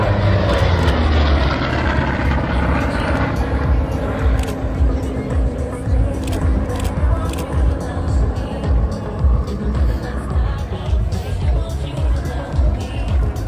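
A propeller airplane's engine drones loudly and steadily nearby at an air show in Valence-Chabeuil, France, a dense rumbling roar with faint voices beneath it.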